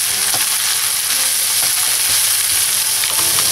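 Shredded chicken and half-cooked onion sizzle loudly in a pan for a chicken sisig, with steady frying hiss and scraping stirs throughout.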